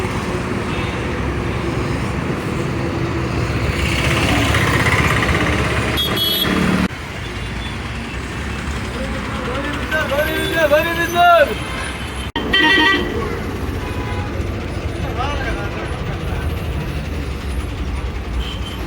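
Sri Vinayaka bus running the Bangalore to Lepakshi route pulls in through busy road traffic, engine rumble and passing vehicles steady throughout, with a horn toot and chatter of people nearby.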